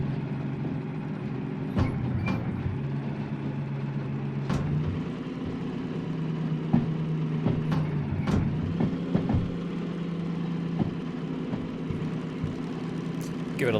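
A truck engine hums steadily in a video game, with a low drone that shifts pitch while downshifting, along with intermittent clicks and air hisses, at moderate level and without speech.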